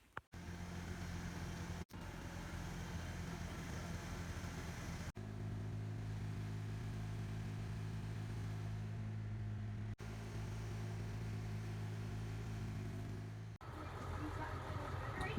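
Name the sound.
tractor driving to the lodge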